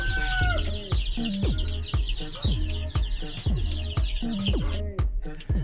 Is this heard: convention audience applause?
no